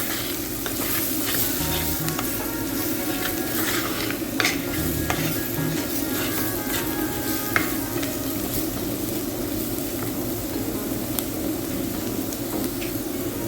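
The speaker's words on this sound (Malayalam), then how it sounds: "ഇനി നമ്മൾ അതിലേക്ക് എടുത്തു വെച്ച പൊടികൾ ഇട്ട് കൊടുക്കുകയാണ്. മുളക് പൊടി, മഞ്ഞൾപ്പൊടി, ഉലുവാപ്പൊടി. നമുക്ക് നന്നായിട്ട് ഇളക്കി യോജിപ്പിക്കാം." Chili, turmeric and fenugreek powders are stirred into a frying pan for a tamarind and jaggery pullinji, giving a dense, steady sizzle with repeated spoon scrapes and clinks against the pan, close-up and without talking.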